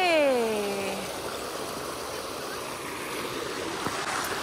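A waterfall in Kashmir gives a steady, broad rush of falling water, continuous and fairly close. A short descending whine cuts in over it at the very start.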